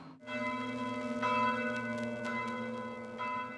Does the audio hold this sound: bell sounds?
yes